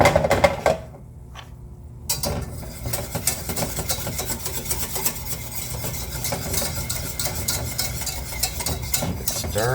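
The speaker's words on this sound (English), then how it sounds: "Keep it stirring." A utensil stirs and scrapes around a pot of boiling, foaming béchamel sauce with Dijon mustard in quick, continuous clinking strokes, fairly close and steady after a brief quiet moment.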